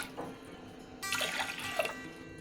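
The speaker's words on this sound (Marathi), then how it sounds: "अजून पाणी घालायचं" Water is poured into a pressure cooker holding washed dal, with a brief, quiet splash and trickle of about a second that follows a faint drip.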